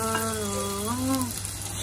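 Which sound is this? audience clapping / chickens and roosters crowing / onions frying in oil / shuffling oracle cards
onions frying in oil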